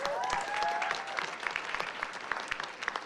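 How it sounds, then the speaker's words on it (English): Audience applause for AI innovation challenge winners lined up on stage at the finals, a dense, steady burst of clapping from a crowd, fairly close and sustained throughout with a faint voice briefly over the start. "Give them a round of applause."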